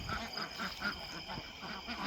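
A series of short, rhythmic quacks from several ducks nearby, repeating steadily at moderate volume.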